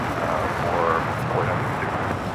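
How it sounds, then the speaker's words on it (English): A DHL Polar Air Cargo Boeing 777 freighter takes off at Los Angeles airport, heard from a distance as a low, continuous rumbling roar with wind noise and no voices. "Next takeoff is DHL Polar Air Cargo Flight 962 heading to Cincinnati in a 777 freighter"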